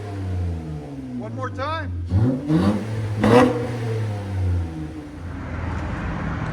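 A 2014 Honda Accord Coupe 3.5L V6 with a muffler delete revs in a few sharp rising bursts close by, with people talking over and between the revs.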